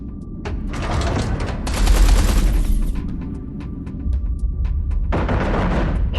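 Heavy artillery fire pounds a carrier in the space-combat game Everspace 2, with a dense barrage of rapid booming shots, some louder bursts and a faint steady tone beneath.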